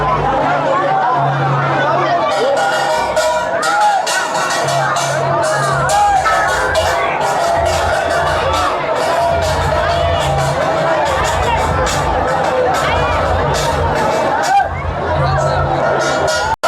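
Dense crowd chatter and babble at the Jagannath Rath Yatra procession in Sachin, Surat, a loud continuous hubbub with occasional whoops and someone talking over it throughout.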